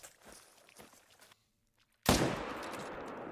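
Hunting rifle fired at a European bison in a hunting video game: soft footsteps and rustling, a brief hush, then one loud close gunshot with a long rolling echo trailing off.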